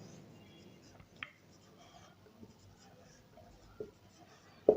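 A teacher writes a sentence on a classroom board, with soft scratchy marker or chalk strokes and a few sharp taps at the ends of words, close and fairly quiet, with no talking.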